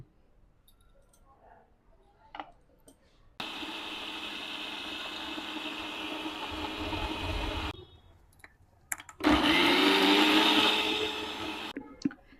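An electric blender grinds spices with a little water and oil for steamed rohu fish: two loud whirring bursts of several seconds each, separated by a short pause, with quiet handling clicks before and between them.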